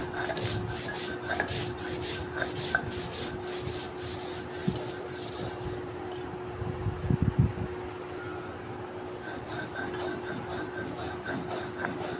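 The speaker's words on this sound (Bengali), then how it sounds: "সরিষা তো বাটা হয়ে গেছে আমার" Mustard seeds being ground by hand into a fine paste, a steady, quiet rubbing and rasping with a faint, constant mechanical hum underneath and a few louder scrapes partway through.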